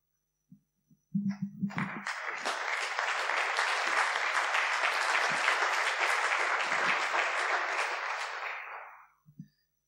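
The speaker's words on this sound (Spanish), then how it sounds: "voy a pedir de nuevo un fuerte aplauso para los ponentes" A lecture audience gives the speakers a strong round of applause, the clapping swelling quickly after a few isolated claps, holding steady for several seconds, then fading out, with brief murmurs at the edges.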